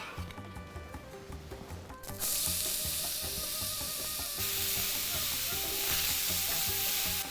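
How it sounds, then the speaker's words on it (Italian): Onion sizzles loudly in a pan that has just been used for cooking, a steady broadband hiss that jumps up sharply after a quieter start with some stirring and clatter, continuing without talk. "nella stessa padella si va a mettere la cipolla"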